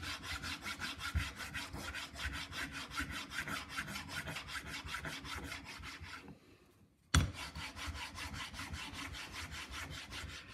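A hand file carves a wax hinged bangle in quick, regular rasping strokes, close and steady, pausing briefly about two-thirds through before the scraping resumes.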